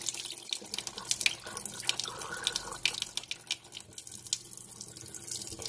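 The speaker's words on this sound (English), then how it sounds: "Pour that water off." Rinse water pours off washed rice into a sink, a running trickle and splashing with scattered drips, fairly quiet and close, no talking.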